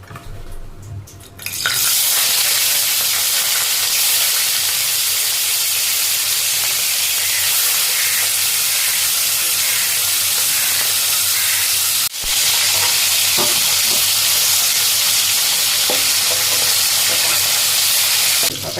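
Katla fish pieces fry lightly in hot oil in a pan for a curd fish curry, giving a loud, steady sizzle and hiss that rises after a brief quieter start, with a short break midway and occasional utensil scrapes.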